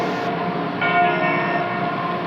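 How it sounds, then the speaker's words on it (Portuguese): A church bell in a Minas Gerais town is rung by hand, its loud sustained metallic tone sounding close and ringing on through the whole stretch without a break. "vamos tocar o sino agora"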